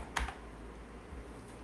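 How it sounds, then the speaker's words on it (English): A few quick clicks of typing on a computer keyboard, close and fairly quiet, with one sharper keystroke early and soft taps after. "So I'm going to type in Lua Hello World example."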